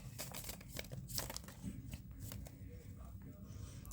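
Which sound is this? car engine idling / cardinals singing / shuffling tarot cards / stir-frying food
shuffling tarot cards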